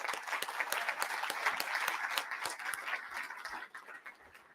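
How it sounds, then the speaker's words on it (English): A conference audience applauds steadily, dense clapping filling the room at moderate loudness before tapering off near the end. "Give them all a round of applause."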